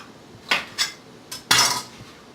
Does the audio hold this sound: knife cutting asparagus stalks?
yes